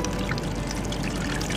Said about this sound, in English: we can pour the water in as such